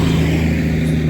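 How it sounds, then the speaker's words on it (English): A loud truck passes close by, its engine a steady, heavy low rumble that holds for the whole moment with no talking over it. "Sorry, that was a really loud truck."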